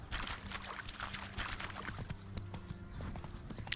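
Roach the horse clip-clops along in The Witcher 3, a steady run of hoofbeats at moderate distance under game ambience and faint music, with no one talking.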